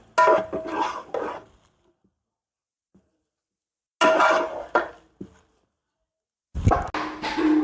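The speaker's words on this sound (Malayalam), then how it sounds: "ഇത് വലിയ ഉരുളി ആയതുകൊണ്ട് നന്നായിട്ട് ഇളക്കിയെടുക്കണം" A large uruli pot of green mango pickle is stirred with a ladle, heard as three loud bursts of metallic scraping and clatter separated by stretches of silence.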